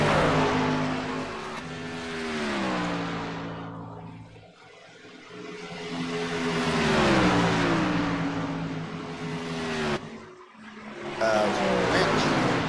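Race trucks roar around the Charlotte oval in a truck series event, engines rising and falling in pitch as they pass and accelerate, loud and continuous with a brief lull midway, under steady commentary.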